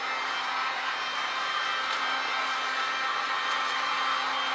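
A heat gun blows continuously while it shrinks a shrink cap over a vertical basket, a steady, even, airy roar with a faint hum and no pauses.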